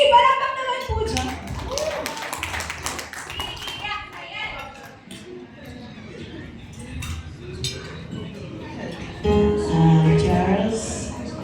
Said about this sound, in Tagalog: Palakpak naman po dyan